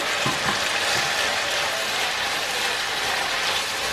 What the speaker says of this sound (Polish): Przez dwie minuty teraz będę te wszystkie składniki razem ze sobą obsmażać